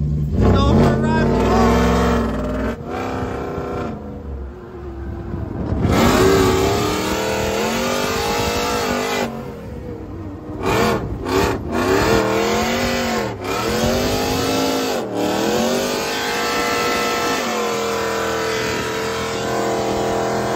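Engine of the El Bandito, an extreme $400,000 custom Bronco off-road truck, revving and surging loudly while driving, with rising and falling pitch throughout and people talking over it at times.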